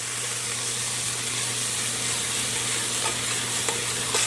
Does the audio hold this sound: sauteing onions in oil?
yes